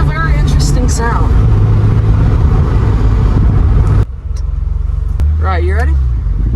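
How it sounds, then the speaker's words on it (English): A 1997 Porsche 993 Turbo S gives off a loud, close engine and induction roar that holds steady, then drops abruptly and returns lower, while a person talks over it. "It's definitely got that induction noise, right?"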